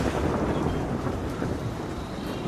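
A thunderstorm roars steadily through the whole stretch, with dense broadband rumble and the hiss of rain, loud and continuous, with no voices.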